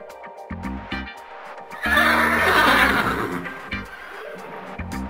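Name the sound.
horse neighing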